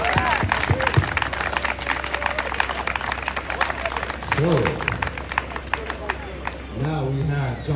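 Crowd clapping and some cheering at a ranked choice voting campaign launch in Boston, a busy burst of applause with a voice speaking over it at moments.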